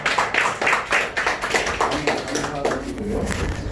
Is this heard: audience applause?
yes